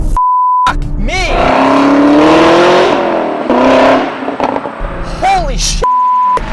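A 2017 Chevrolet Camaro ZL1 revs hard and close, with rising and falling engine swells, short electronic beeps at the start and end, and excited voices over the roar.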